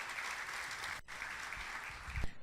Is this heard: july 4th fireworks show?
no